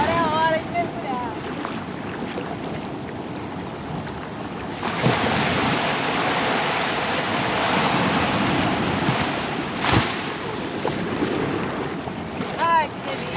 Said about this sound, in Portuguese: Agora que chegamos aqui na praia, vamos dar um mergulho